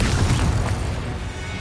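A Confringo fire spell blasts in the Hogwarts Legacy video game, a loud, dense rumbling boom that stays heavy and sustained through to the end, with no voice over it.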